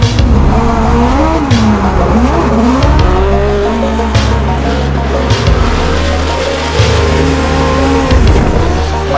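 Formula Drift cars drifting at St. Eustache Autodrome produce loud, continuous tire squeal and howling, revving engines, with wavering pitch as the cars slide through corners close by.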